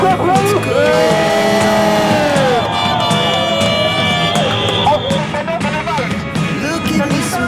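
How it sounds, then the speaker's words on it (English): A protest crowd in Trafalgar Square, London, at a ULEZ rally, cheering, whooping and yelling loudly and continuously, with scattered voices shouting over the dense crowd noise. "Give yourselves a big clap, please."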